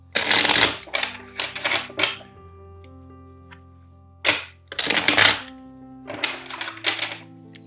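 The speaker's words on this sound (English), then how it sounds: "First, I will shuffle the decks." A deck of tarot cards is shuffled by hand in several quick riffling bursts, each a loud crisp flutter of cards lasting under a second, separated by short pauses and near the listener.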